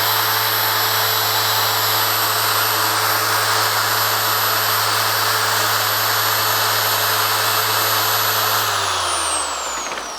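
A car polishing machine with sprayable compound, running on a car panel: a loud, steady whirring hum with a high whine, holding constant for about nine seconds before the pitch drops as it spins down.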